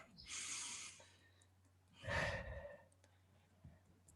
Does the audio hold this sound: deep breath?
yes